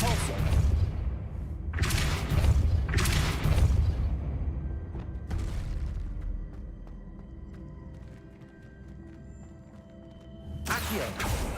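Spell-casting effects from the Hogwarts Legacy video game, a Depulso force spell: a run of deep booming thuds and whooshing blasts in quick bursts, over a constant game soundscape, ending with another blast.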